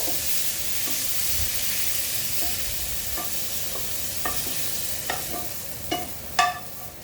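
Fried prawns for a green-coconut prawn dish are stirred in oil and tipped into a pot, giving steady frying sizzle with scraping stirs and sharper metallic clinks and knocks that grow louder toward the end; no one speaks.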